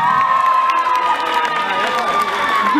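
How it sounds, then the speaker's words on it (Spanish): A festival crowd cheers and shouts with some clapping, loud and continuous throughout, with children's voices and whistling rising above the din. "Un aplauso para esta otra parejita."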